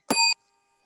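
A single electronic bell chime marks the end of a speaker's allotted time at a League of Women Voters congressional candidate forum. It is one short, bright ding lasting about a quarter second, then silence.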